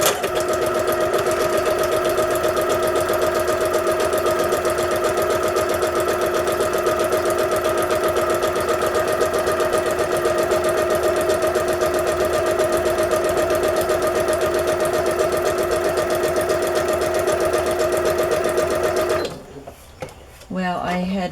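A sewing machine stitches a strip of paper down its center on a zigzag setting, a steady, loud, close mechanical hum that runs unbroken for about nineteen seconds before stopping abruptly.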